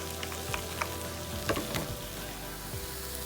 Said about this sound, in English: we're going to add our mushrooms to this and start cooking these guys up